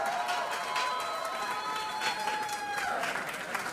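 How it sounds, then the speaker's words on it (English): A crowd applauds steadily, the clapping sustained and moderately loud, with faint cheering and a tonal hum in the background. "a big round of applause for your principal"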